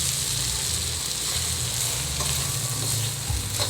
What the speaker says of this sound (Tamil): இந்த ரவை வந்து இந்த சூட்லேயே லைட்டாக வறுத்துக்கலாம்.